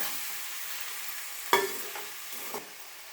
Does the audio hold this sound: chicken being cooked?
yes